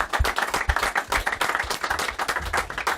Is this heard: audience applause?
yes